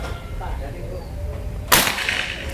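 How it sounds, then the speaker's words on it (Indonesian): A single sharp crack from a PCP air rifle, a Predator or Marauder, fired at a paper target, cutting in abruptly after a quiet stretch of faint room noise and trailing a short burst of high hiss. "Sekarang tembakan yang terakhir kelima."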